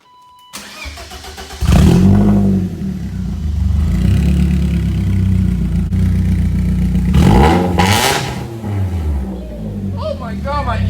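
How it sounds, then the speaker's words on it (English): A four-cylinder BMW E36 engine cranks to life and revs loudly up close, roaring and settling between bursts, with a voice briefly audible near the start. "We thought it might be fun to see what the car sounds like."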